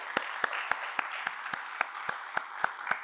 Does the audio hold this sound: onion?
no